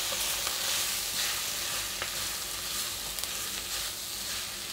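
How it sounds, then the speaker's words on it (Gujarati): Boiled, mashed potatoes being stirred into a stuffed rava idli filling in a pan, giving a steady, close sizzling and scraping hiss that runs evenly throughout with no voices. "હવે આપણે એમાં આ બટાકા બાફીને જે મેશ કરેલા એ નાખી દઈશું, એને આપણે એકદમ મિક્સ કરી દઈશું"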